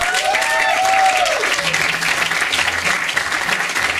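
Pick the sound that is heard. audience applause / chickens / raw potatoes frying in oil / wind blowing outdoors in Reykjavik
audience applause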